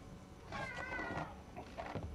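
A cat in the video game Forspoken gives a single soft, drawn-out meow followed by a shorter second call, quiet and alone against a faint background.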